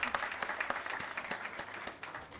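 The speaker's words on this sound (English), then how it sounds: "A round of applause for everyone, please, guys" Audience applause at a college inauguration event, a dense, steady patter of many hands clapping at close range, fading slightly toward the end.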